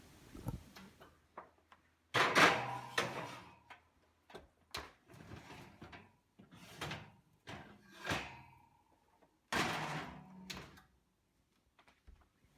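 An oven door opening and closing as oatmeal scones go in to bake, with a few knocks, a louder thump and rattling handling sounds in a quiet kitchen, no talking.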